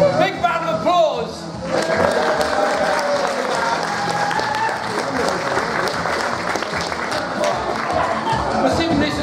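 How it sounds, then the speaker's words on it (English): Crowd at a gaming expo panel breaks into sustained applause and cheering after a short stretch of talk, the clapping continuing dense and even throughout. "Big round of applause."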